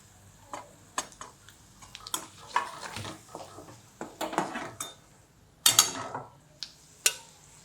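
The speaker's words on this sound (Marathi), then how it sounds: "लसूण लाल होतोपर्यंत थोडासा परतून घ्यायचा चांगला" Garlic sautéing with turmeric, asafoetida and chilli powder for bhadang, heard as a spoon repeatedly clinking and scraping against a metal pan in irregular taps and rattles, close and fairly quiet.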